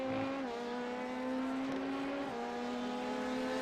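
Porsche race car in a 24-hour Le Mans endurance race, a steady loud engine drone with a gear change near the start and pitch shifts as it passes close by.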